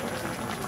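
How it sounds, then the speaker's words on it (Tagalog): Squid and papaya simmering in coconut milk in a pot, a steady close bubbling boil with a soft continuous hiss that holds level throughout. "Yan tayo, unti-unti nang kumukulo."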